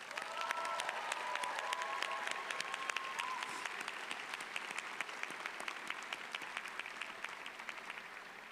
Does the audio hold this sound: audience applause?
yes